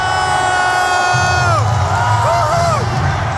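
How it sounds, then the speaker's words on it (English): A large basketball arena crowd at the Philippine Arena roars and cheers during Game 7 of the Ginebra San Miguel vs. Bay Area Dragons finals, a loud continuous wall of noise with rising and falling whoops and shouts throughout. "Ang ganda ng sequence kaya buhay na buhay ang crowd"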